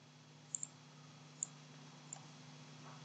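Computer mouse clicks while setting up a web viewer on a laptop: a few sharp, faint clicks in two quick pairs, then one more, against a steady low hum in a quiet room.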